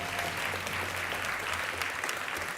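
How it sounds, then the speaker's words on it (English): A room full of people claps for the volunteer servers at an evening event, a steady, moderately distant round of applause with no talking on top. "Give a round of applause to the servers."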